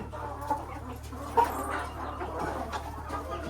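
Live chickens, tied up and bought for a village meat feast, give soft scattered clucks nearby over a low steady background hum.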